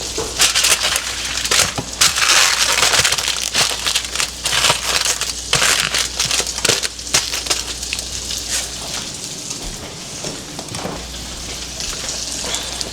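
Sausage skin packaging crumpled by hand in a kitchen, a close, steady run of crinkly crackles and rustles with sharper snaps, continuing for several seconds with no talking.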